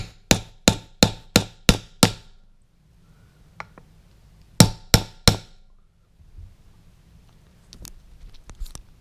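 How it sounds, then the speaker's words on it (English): A hammer strikes metal in a quick run of six sharp taps setting wheel rivets, then a pause with faint handling, then three more taps close up. "use a hammer to hit whatever you're using to sink these things in"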